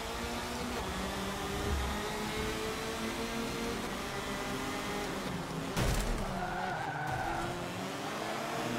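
A Formula Ford race car in Forza Motorsport 7 accelerating off the line at Hockenheim, engine whining steadily up through the revs amid a pack of other cars, with tire squeal and a brief loud burst mid-run.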